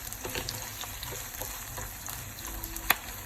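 Spices and chili for a chicken curry fry quietly in a pan, giving a soft continuous sizzle with scattered small pops and one sharp clink near the end, with no talking.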